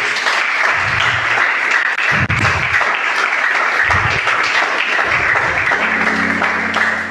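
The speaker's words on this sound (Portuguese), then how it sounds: "Vamos aplaudir o Senhor." Church congregation applauding during a worship service, sustained loud clapping with low booming thuds and a held musical tone underneath toward the end.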